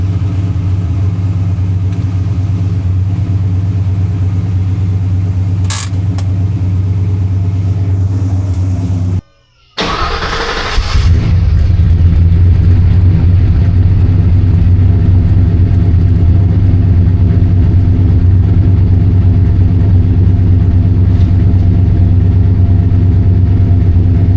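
A green truck's engine cranks and catches after fuel system work, then settles into a steady, loud, close rumbling idle that runs continuously without talk.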